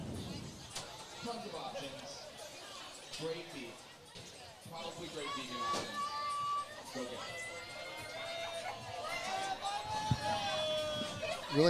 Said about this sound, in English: Really nice crowd here.